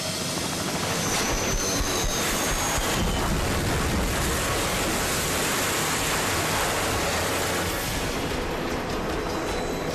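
A helicopter drones loudly and steadily, its rotor noise a dense, rushing roar that stays constant throughout with no voices.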